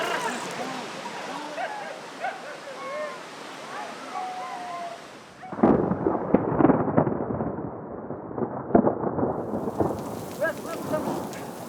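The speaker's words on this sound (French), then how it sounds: "Voilà l'orage." A thunderstorm breaks over a nomads' route in Iran: birds chirp in calm air at first, then heavy rain sets in abruptly with loud, rolling rumbles of thunder that swell and fade repeatedly.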